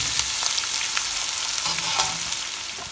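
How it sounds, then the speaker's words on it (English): Large onions with ginger fry in a pan, giving a steady, close sizzle with faint stirring clicks throughout. "So now I'm adding 3 large onions."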